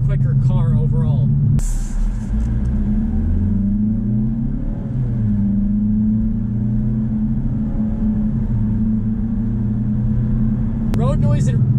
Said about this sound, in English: There is a little bit more road noise, but it's nothing crazy.